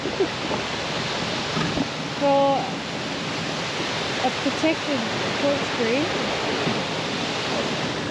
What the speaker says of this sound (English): that swell is still wrapping all the way in